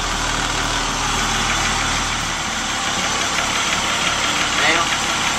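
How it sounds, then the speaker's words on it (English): A school bus engine, held in its lowest gear with the brakes on, drones as it is revved, a deep, steady mechanical hum that drops to a lighter idle partway through. "Move the gear selector to the lowest gear and rev up the engine to around 800"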